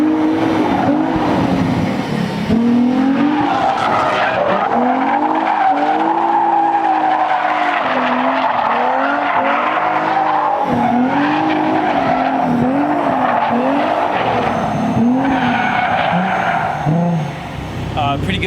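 A Nissan 180SX drifts with long wavering tire squeals over a loud revving engine, continuous through the run, with a voice occasionally audible.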